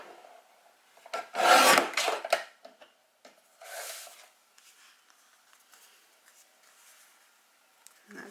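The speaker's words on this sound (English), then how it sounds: "this one's actually overhanging slightly, so I will just trim it slightly" A paper trimmer rasps and scrapes briefly as it trims the overhanging edge of patterned paper, producing one louder rough slicing burst and a smaller one between soft handling noises.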